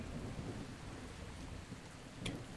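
Steady rain falls in Ark Survival Ascended, a dense, even hiss of drops with a low rumble beneath, fairly quiet and continuous with no voices.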